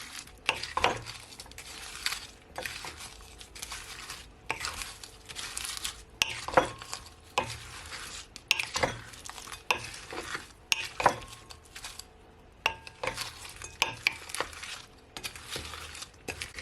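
Pimento is stirred into shrimp in a frying pan for Jamaican pepper shrimp: repeated scraping strokes of a utensil against the pan come in quick bursts over a soft sizzle, close and clear, with no voices.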